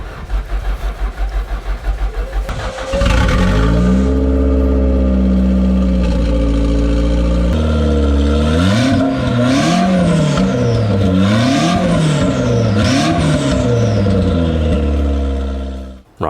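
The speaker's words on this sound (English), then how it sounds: "Right, we know the car starts" A Toyota MR2 Spyder's engine cranks for a few seconds, catches and starts, then runs loud and close with rising and falling revs throughout.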